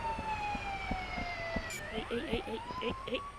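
An ambulance siren in a bus simulator video game wails with a continuous rising and falling tone under a low engine rumble, with faint talk in the background.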